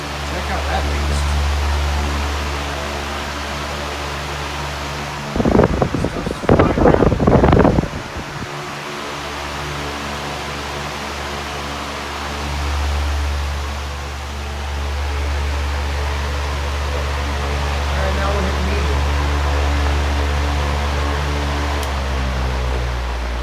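A Patton industrial fan blows hard in a basement, a loud steady broadband roar with a low hum that lasts throughout, briefly overlaid by a burst of close rustling or handling noise.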